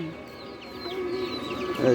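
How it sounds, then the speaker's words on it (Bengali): Chickens cluck nearby in short, scattered calls over a steady outdoor hum. "অনেকগুলো মুরগি"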